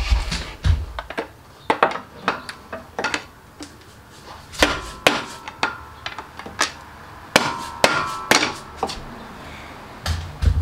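Hammer tapping on a tool set against a VW 09G transmission axle to free it, a long series of sharp, close metallic strikes in uneven clusters with short pauses between them.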